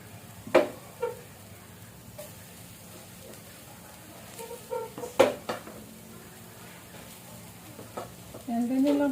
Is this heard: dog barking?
no